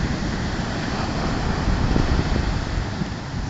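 Rough, angry sea surf roars continuously up close, a dense unbroken wash of crashing waves mixed with wind buffeting the microphone.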